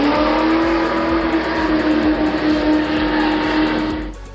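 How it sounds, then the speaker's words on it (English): A custom-built trike motorcycle accelerates hard with a loud, close, sustained engine roar that climbs steadily in pitch, then cuts off abruptly near the end. "The motorcycle accelerates to 100 miles per hour in 4 seconds"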